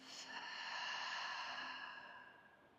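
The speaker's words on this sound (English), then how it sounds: "exhale through the mouth" One long, soft exhale is pushed out through the mouth at the close of a yin yoga session. It is a quiet, breathy sigh heard close up, easing off gently with no other sound around it.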